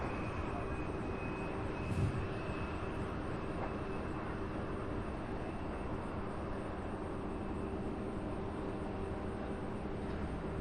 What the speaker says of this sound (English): We have Nice landing there by American Flight 3900.